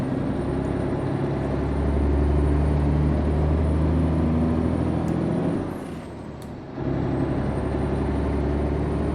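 Mack R truck in American Truck Simulator, its engine droning steadily before a sharp hiss of air brakes releasing, then the engine rumbling on, loud and close with no talk.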